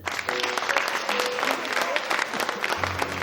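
An audience at a live show applauds, a dense and fairly loud wash of clapping that carries on steadily, with voices mixed in.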